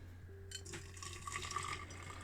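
Hot, not quite boiling water pours into a tall glass jar holding a die-cast Matchbox Peugeot Quasar casting, a quiet, steady filling gurgle over low background hum.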